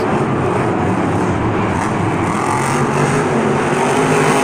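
A Hot Wheels monster truck spinning a donut in a Houston stadium, its engine giving a loud, unbroken, roaring drone with a throaty low rumble that holds steady throughout.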